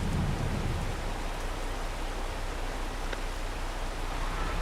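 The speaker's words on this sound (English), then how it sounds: "I hate it when it rains because there's not much you can do on a rainy day" Steady, dense hiss of rain falling on a farm in the video game Farming Simulator 22, continuous and even throughout with no voices.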